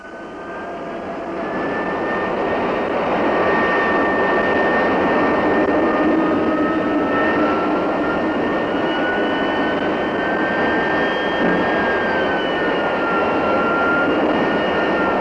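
A T-33 Shooting Star jet trainer's engine roars steadily on the flight line, a loud sustained whine with a slowly shifting high tone and no voices.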